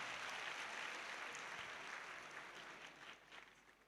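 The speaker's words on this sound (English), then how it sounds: "Another round of applause for the chairman of today's event." Applause from an audience at a university pre-convocation lecture, greeting the event's chairman: a dense, steady clatter of many hands clapping, loud at first and thinning slightly toward the end.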